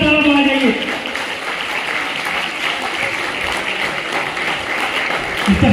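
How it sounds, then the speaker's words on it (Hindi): Loud, enthusiastic clapping from an audience honoring the third-place winner of a school children's naat competition in Aurangabad, with an amplified voice talking over the start and again near the end. "तो प्लीज जोरदार तालियां बजा जाइए।"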